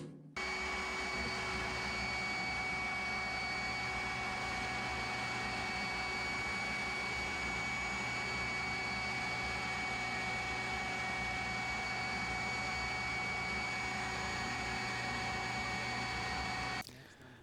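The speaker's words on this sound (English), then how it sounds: "After using the spindle sander to sand out the inside of the case of the box" A spindle sander runs steadily, sanding out the inside of a wooden bandsaw box case: a loud, continuous motor whine with a grinding sanding hiss that holds for about sixteen seconds, then cuts off abruptly.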